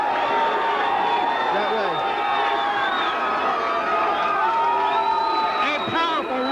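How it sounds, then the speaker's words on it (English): Fight crowd roaring loudly in a sustained eruption of cheers, whoops and shouts, dense and continuous with rising yells near the end, as a commentator speaks briefly over it. "this crowd is absolutely erupted"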